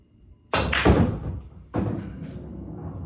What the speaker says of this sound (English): I have a series of 7 draw shots that I'm going to hit